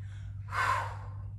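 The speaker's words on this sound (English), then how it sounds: "Big inhale." A deep inhale taken during a lower-body mini-band conditioning workout, a single breath that swells to a peak midway and then fades, heard close over a steady low background hum.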